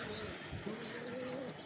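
Two female pigeons, a Saleti Kamagar and a White Golden, give soft, low cooing calls, quiet and close, over a brief moment with light background hiss.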